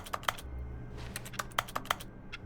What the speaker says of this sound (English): Each time I click my mouse button, it's like keyboards in a game.